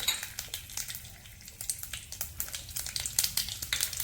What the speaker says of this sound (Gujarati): એક કઢાઈમાં તેલ લઈશું બે ટેબલ સ્પૂન તેલ લઈશું એમાં વઘાર નાખીશું